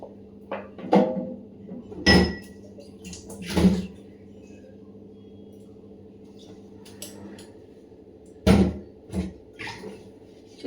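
Kitchen dishwashing: a few sharp, close clinks and knocks of dishes and pots, spaced irregularly over a quiet background hum.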